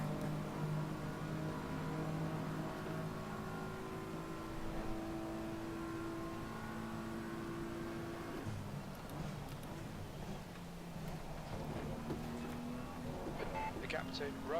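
Simulated race car engine in a racing video game, a steady droning hum with shifting pitch that drops off partway through, heard under ongoing talk.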